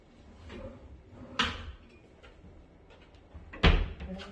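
Built-in cabinet drawers in a rental apartment being handled, two distinct sharp knocks as drawers slide and shut, separated by quieter rustling, close and indoors.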